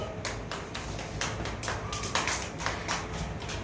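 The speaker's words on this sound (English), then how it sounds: "Clapping." Hands clap in a quick, even rhythm, a run of sharp close slaps repeating several times a second with faint voices around them.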